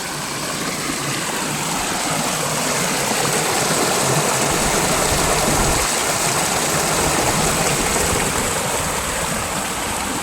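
Rain-swollen stream water from the hills rushes steadily near a farm well, flowing toward the Veer dam. It makes a loud, continuous broadband roar with no pauses and no voices.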